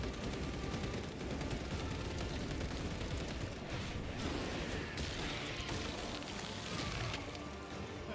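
Dense gunfire and explosions from a bombardment in the video game Space Marine 2, a continuous loud barrage of rapid shots and crackling impacts that never lets up, with no talk.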